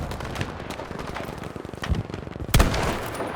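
Battlefield V combat with repeated gunshots crackling over a steady battle din, and a sharp, loud blast near the end that fits an RPG launch or impact.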